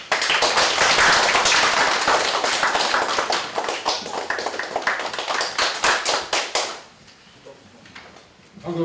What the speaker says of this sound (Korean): 큰 박수를 좀 해주세요.